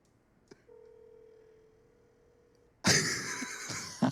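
A phone call rings out as a single steady electronic ringback tone, faint and held for about two seconds after a small click. A sudden loud, noisy burst of sound then takes over.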